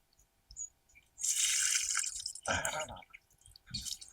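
Rainwater splashes and drips in irregular bursts onto an outdoor cooking fire, with a few sharp drops and a louder wet gush in between.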